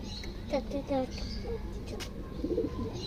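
Low pigeon coos warble in short bursts close by, mixed with a human voice talking quietly in the background.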